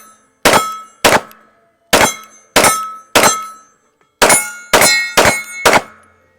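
During test shooting, an FN 509T pistol fires eight sharp, loud shots in an uneven rhythm, some in quick pairs, each followed by a brief ringing decay, with no talking.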